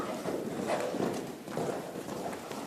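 A horse walks at a slow, even pace, its hooves thudding softly and regularly nearby over a steady background.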